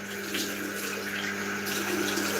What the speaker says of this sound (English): going to rinse the sink